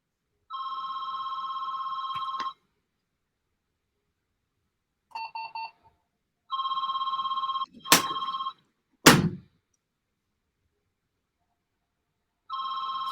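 A fax machine ringing repeatedly in loud electronic bursts of about two seconds each, separated by silent gaps, with a couple of sharp thuds in between.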